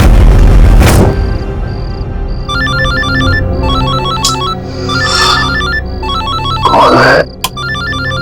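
A phone rings at night with a repeating electronic ringtone, loud and near, cutting in and out among booming dramatic music hits, with a brief spoken question early on.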